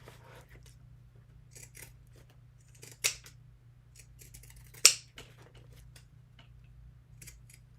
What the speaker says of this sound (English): I'm going to grab my pinking shears, and just around these curvy corners, I'm just going to cut into them.